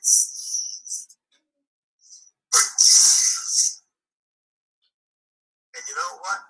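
A storyteller's voice imitates a big sneeze, with breathy hissing huffs and snuffs followed by a loud, forceful burst, then a short vocal sound after a pause.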